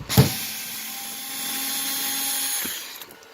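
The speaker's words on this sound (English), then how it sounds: "Get this last screw out." The last screw comes out of a rear projection TV: a sharp knock at the start, then a steady, moderately loud whirring for a couple of seconds that fades out with a small click.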